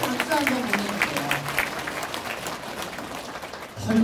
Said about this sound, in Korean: 여러분 큰 박수 한번 보내주세요